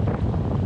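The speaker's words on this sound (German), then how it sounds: "aber es ist halt einfach super windig" Strong wind buffets the microphone outdoors on a cold, sunny shore, a steady low roar with gusty rumble filling the whole short moment, no voices.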